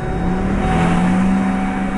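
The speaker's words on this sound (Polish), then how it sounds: "To się od razu przejedziemy kawałek." A manual Volvo V70 2.5 T with 231 hp and 368,000 km pulls away, its engine giving a loud, steady close-up drone with a low tonal hum that holds throughout, with no voices.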